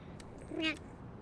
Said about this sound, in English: The cat is spying on us.